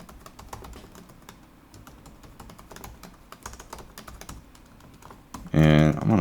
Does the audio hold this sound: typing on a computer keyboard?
yes